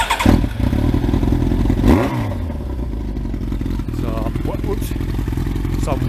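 A Kawasaki ZZR1400 or Aprilia RSV1000 motorcycle, a former non-runner during a strip-down, cranks and fires, then idles with a clattering rumble close by while a person talks over it.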